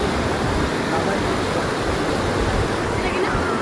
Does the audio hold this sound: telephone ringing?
no